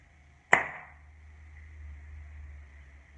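One crisp handclap from two hands in a quiet room, close and alone, followed by a faint lingering ring and low background hum.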